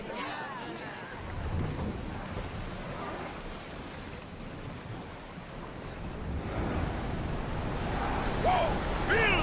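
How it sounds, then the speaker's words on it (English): Strong wind gusting over open sea, a broad roar that swells and builds toward the end, with faint voices underneath. "Whoa! Feel that wind!"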